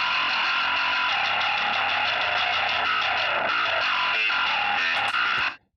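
Bass guitar played through an emulated old Ampeg amplifier with a distortion pedal in front, giving a thick, saturated, buzzing tone that holds steady and loud for about five seconds before cutting off abruptly.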